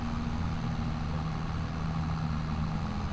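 A tractor engine in Farming Simulator 22 drones at a steady idle, a continuous low hum with an even tone and no pauses, heard alone without voices.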